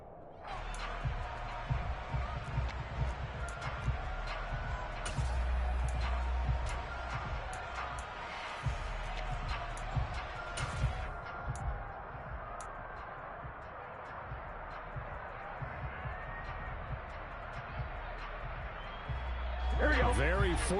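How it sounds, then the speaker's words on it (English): An American football crowd shouts and murmurs in a broad, uneven swell during a replay at a Bengals game, the noise rising and falling with louder bursts, while a commentator talks over it. "Plenty of shouts from this crowd as they watch the replay."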